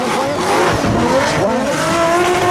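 Drift car at a Red Bull drifting event on Spike Island, Ireland, engine revving hard while tires squeal and skid in a sustained loud roar, near and continuous.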